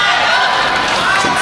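Loud, steady roar of an arena crowd chanting and cheering for Ma Long at a table tennis match, a dense continuous wall of voices with no pauses.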